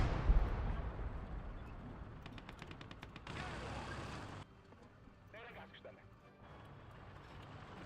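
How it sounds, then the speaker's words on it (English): Distant explosions and crackling gunfire from a bombing run in the Gates of Hell: Ostfront Finland campaign, a burst of rapid impacts and a dense rumbling blast, then quieter rattling shots, with someone talking over parts of it. "You know, for a bombing run, a little underwhelming."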